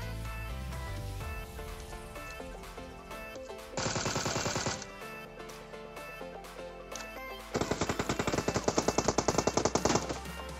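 Automatic gunfire in the mobile battle-royale game PUBG Mobile: two loud rapid-fire bursts, a short one and then a longer rattling one, over continuous background music.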